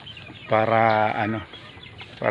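Chickens and chicks in a small backyard brooding pen give a loud burst of clucking and squawking lasting about a second, then fade to quieter background sounds.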